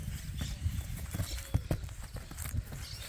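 Hooves of a purebred Criollo horse clip-clop at a walk, distinct irregular knocks fairly close over quiet outdoor background, with no talking over them.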